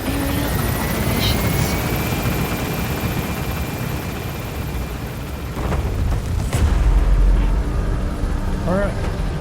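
A helicopter climbs away from a landing zone in Metal Gear Solid V: The Phantom Pain, its loud continuous rotor roar swelling near the end, with voices faintly over the engine noise.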